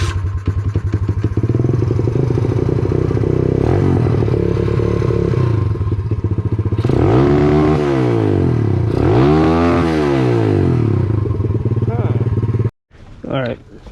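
A pit bike engine runs loudly and steadily nearby after a carburetor needle swap, then revs up and down in several rising and falling sweeps before cutting out abruptly, followed by brief clatter.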